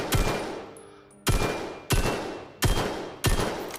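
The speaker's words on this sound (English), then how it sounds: "I'm shooting single shots with this" Five sharp, loud single gunshots from a VR game gun ring out at roughly even intervals, each with a quick decaying tail and no talking.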